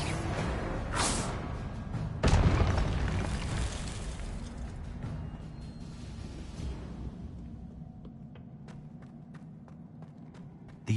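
Confringo blasting spell in Hogwarts Legacy, a loud burst at about two seconds followed by a long rumbling decay, with faint footsteps and game ambience after.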